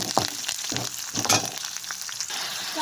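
Onions sizzle steadily in a pan with chili powder stirred through, a continuous bright frying hiss broken by scraping stir strokes, close and fairly loud with no voices.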